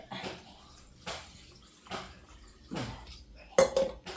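Several separate splashes of water land in a metal pot of tapioca curry with turmeric, each a brief pour spaced about a second apart, ending with a sharper clink.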